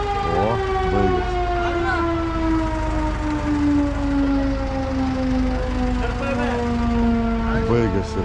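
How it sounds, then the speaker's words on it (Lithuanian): Loud wailing siren, likely a civil defense siren, holding a long steady rising tone with layered harmonics for several seconds, sounding continuously from start to finish. "Baigės sirena"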